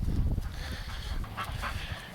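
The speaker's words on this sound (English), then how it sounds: "So let's try to get these ducks back in their area." Ducks being herded back into their pen make a busy, overlapping mix of quacks and honking calls against steady low scuffling and movement, continuous and fairly close throughout.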